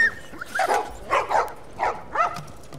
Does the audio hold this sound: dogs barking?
yes